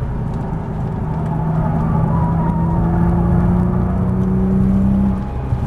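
Nissan GT-R accelerating on a race track, a steady loud engine drone with a rising whine that climbs in pitch, heard from inside the car without talk.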